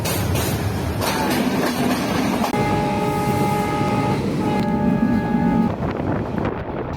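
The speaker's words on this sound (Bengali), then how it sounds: "রাত 10টায় চট্টগ্রামের উদ্দেশ্যে রওনা দেই চট্টগ্রাম মেইল ট্রেনে।" Chittagong Mail train running at night, a loud continuous rumble and rattle of rail cars close by, with steady tonal hums and whines rising over the clatter partway through and no talking.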